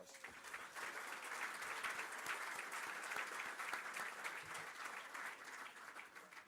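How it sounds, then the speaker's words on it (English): Sustained applause from the audience at a city's State of the City address, a dense, even wash of many hands clapping at a moderate distance with no speech over it. "Give yourselves a round of applause."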